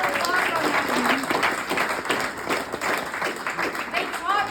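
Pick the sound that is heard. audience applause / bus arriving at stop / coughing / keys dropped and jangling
audience applause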